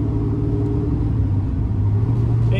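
A car with a newly installed S60 rear axle out on its first drive, a steady low road rumble and engine drone from inside the cabin, fairly quiet with no talking.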